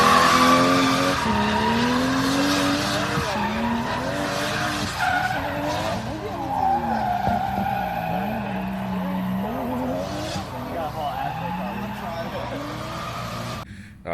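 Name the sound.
Johnny's drift car skidding, tires squealing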